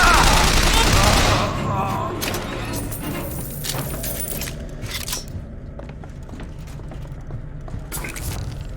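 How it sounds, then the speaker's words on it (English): Gunfire in the video game BioShock Infinite, a loud burst of rapid shots at the start followed by scattered clicks and mechanical clatter while voices talk. "Stop shooting!"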